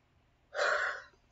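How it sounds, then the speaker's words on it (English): A single close human yawn: a breathy, airy inhale that swells abruptly, holds for about half a second, then fades out, alone in a quiet room. "back to yawning again"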